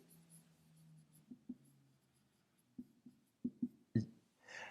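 A pen or marker writes by hand in short, quiet strokes and taps, with scattered soft scratches and a cluster of sharper marks near the end.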